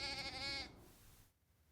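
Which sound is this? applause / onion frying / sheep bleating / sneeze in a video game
sheep bleating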